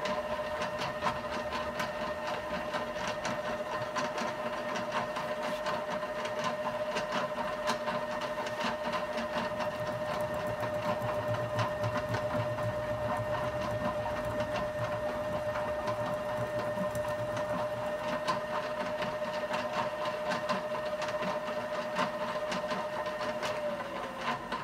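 A drill bores slowly under firm feed pressure through stainless steel tubing cut at a 45-degree angle, giving a steady whining drone with a grinding rumble that holds throughout and drops away just before the end.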